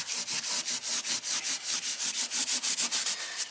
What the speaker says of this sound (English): I definitely like to do the Scotch-Brite in this direction, because I feel like it gets in between each fret better